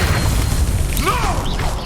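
Confringo fire blast spell in Hogwarts Legacy: a continuous loud, roaring blast with crackling bursts and whooshing swells, sustained throughout at close range.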